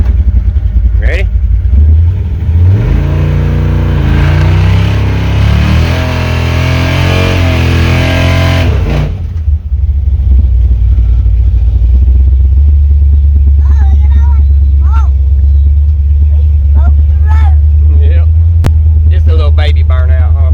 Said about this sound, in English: Baby burnout, huh?